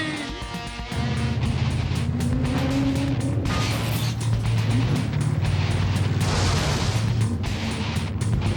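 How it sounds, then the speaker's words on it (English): A life-size remote control car does donuts on a wet track, its engine droning loud and steady after a brief start, pitch wavering as it slides and revs in continuous close circles. "I was really breaking loose and doing a lot of donuts."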